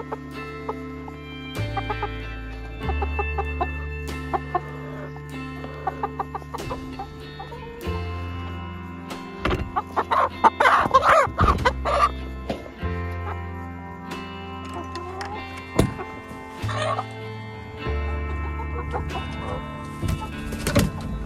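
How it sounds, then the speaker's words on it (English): Chickens clucking and squawking in a coop, close and fairly loud, with repeated agitated calls and a few sharp louder outbursts over a low steady hum. "And they're already making noise at me."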